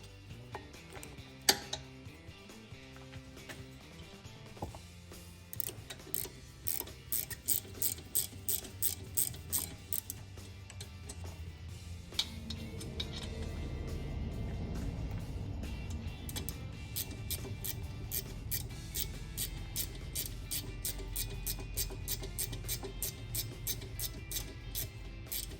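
A Jeep Grand Cherokee 5.7 Hemi brake caliper's bolts are being tightened with a ratchet, with a long series of rapid pawl clicks close by. It starts with a few separate clacks and later has a steady low rumble underneath.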